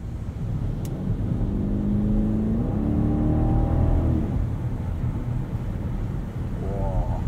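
A 2021 BMW Alpina XB7 SUV cruises from inside the cabin, its engine a smooth, steady hum that rises in pitch as it accelerates, over continuous road and wind noise.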